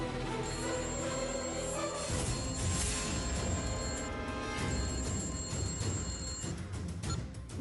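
A telephone rings in two long electronic bursts inside a Telugu TV serial scene, sounding over a loud, dense background music score.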